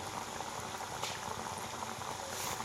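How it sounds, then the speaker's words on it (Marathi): Chakli fry in hot oil over a medium gas flame, giving a steady, soft, bubbling sizzle that continues evenly throughout, quiet and close, without any voices. "मंद गॅसवरती आहे ना, मी ही चकली तळून घेणार आहे."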